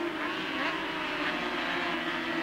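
Racing motorcycles, including a 500cc Yamaha among 700cc machines, drone steadily at a circuit with a continuous loud engine roar and no break.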